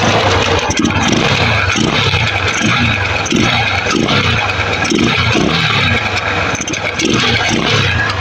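A Bajaj Rouser 135 motorcycle with leaks and a poor-sounding engine runs loud and close, its uneven churning and revving continuing throughout with no pause.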